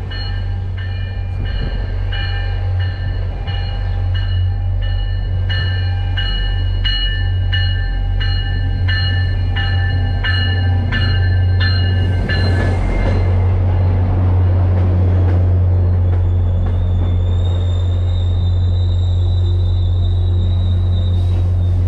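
A Lowell Line commuter train arrives at a station, rumbling steadily close by while high metallic squealing tones ring out in pulses, then a long sustained whine rises near the end.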